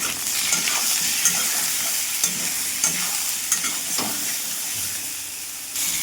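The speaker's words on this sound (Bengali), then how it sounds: "দেখো এবার লবণ হলুদ দিয়ে দিয়েছি, আর ভালো করে ভেজে নিচ্ছি।" Vegetables frying in a pan with salt and turmeric (eggplant pieces browning in oil) give a steady close sizzle with repeated stirring scrapes throughout, no talking.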